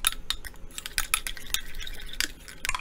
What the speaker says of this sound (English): I'm going to grab my spoon over here and I'm going to mix it all up